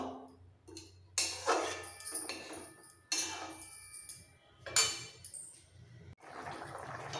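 Spoon scraping and clinking in a pan of rohu fish curry, with several sharp metallic knocks and gentle liquid stirring between quieter pauses.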